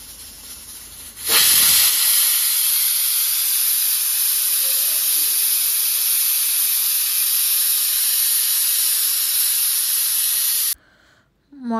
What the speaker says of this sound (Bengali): এখন এখানে দেখতে এলাম মাংসটা সিটি পড়বে